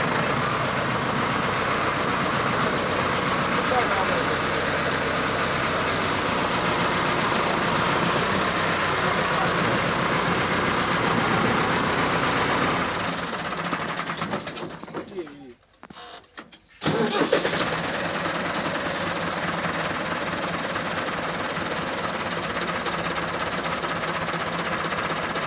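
Massey Ferguson 385 tractor engine running steadily and loud, with a brief dip and interruption partway through before the steady drone resumes.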